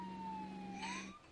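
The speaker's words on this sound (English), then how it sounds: "All I hear is fucking sirens going off." A police siren in a video game wails in the background, its pitch slowly falling then rising, fairly faint and distant.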